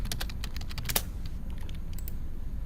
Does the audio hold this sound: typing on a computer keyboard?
yes